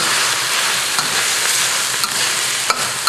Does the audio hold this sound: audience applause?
no